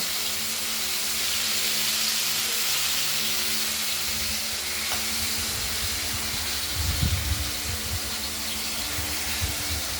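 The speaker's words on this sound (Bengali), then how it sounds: "একে একে ভেজে নিচ্ছি ভাজতে দিয়ে নুন হলুদ আগেই মাখানো হয়েছে" Pieces of katla fish, rubbed with salt and turmeric, fry in hot oil with a steady, close sizzle and hiss that holds for the whole stretch, swelling briefly near the end; no one speaks.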